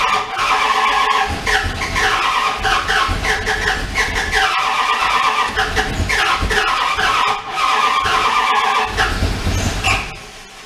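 Old, rusty car that won't run, with a timing issue: the engine cranks and sputters loudly and up close, a rough, uneven churning that keeps going for about ten seconds before cutting off.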